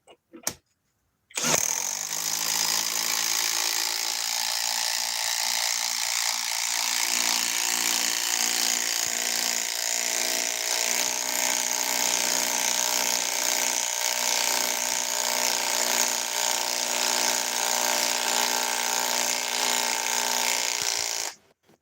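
A Milwaukee power tool drilling a hole whirs loudly and steadily for about twenty seconds after a couple of brief knocks, then cuts off abruptly.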